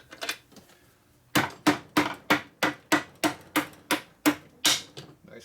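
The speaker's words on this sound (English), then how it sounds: "Try not to beat on the crank on the table when you're beating these in." A dowel stud hammered into a 1983 Harley-Davidson FLTC 80ci Shovelhead motor case gives a run of about ten sharp, evenly spaced metallic blows, loud and close, after a few softer taps.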